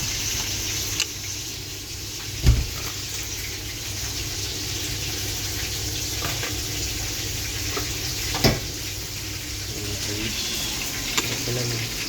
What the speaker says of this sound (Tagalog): Haluin ko muna.